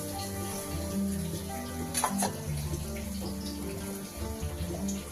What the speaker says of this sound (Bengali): এবার আমি দিয়ে দেব ভেজে রাখা আলুগুলো